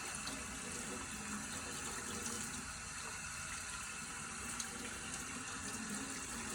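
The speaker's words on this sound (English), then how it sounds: "I'm going to do this by letting the water run down to my fingertips" A sink tap runs steadily while hands are rinsed, water flowing down to the fingertips, a soft even hiss and splash that continues without a break.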